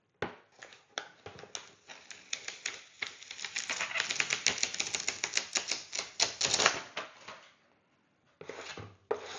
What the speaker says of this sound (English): all you need to do is now take off the white backing